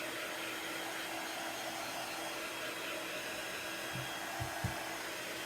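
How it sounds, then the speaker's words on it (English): An embossing heat tool blows hot air in a steady, loud whooshing hiss, with a couple of soft thumps near the end. "I'm using a heat tool that I used to use mostly for embossing"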